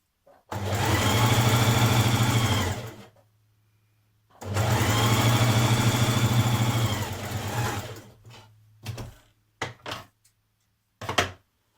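A sewing machine stitches a narrow zigzag on dress fabric in two loud, steady bursts of whirring motor and rapid needle clatter, followed by a few short clunks and handling noises.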